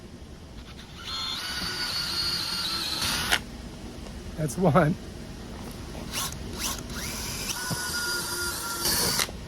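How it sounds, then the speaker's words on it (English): A power drill whirs in a few steady bursts, close by, drilling bolt holes while installing a solar street light, with a short spoken remark in between. "now I can just drill my holes."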